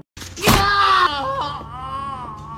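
A man screams in pain in a film scene after his leg is broken, a loud sudden wailing cry that strains high then trails off into a shaky, moaning tone, with a thump at the start.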